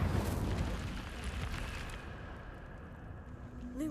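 In Hogwarts Legacy, an Incendio fire spell goes off as a rushing, roaring burst that is loudest at the start and fades into a softer crackling hiss, with faint chime-like tones at the end.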